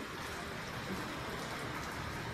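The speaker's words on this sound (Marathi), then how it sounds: "चला पाऊस येत आहे." Steady, dense rain pouring down, a continuous hiss of drops hitting surfaces close by.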